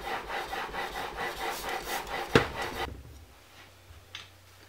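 A hand plane blade rubs back and forth on a sharpening stone in steady rhythmic strokes, a close gritty scraping that ends with a knock before near silence and one faint clack.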